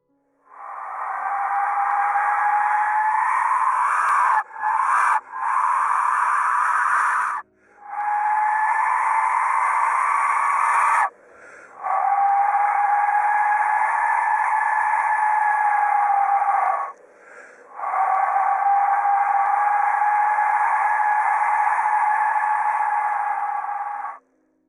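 An Aztec death whistle: long, piercing, scream-like blasts with a harsh, noisy edge, repeated about five times with brief gaps, loud and unaccompanied.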